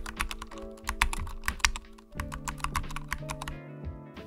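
Typing on a computer keyboard, a steady run of close key taps over soft background music tones.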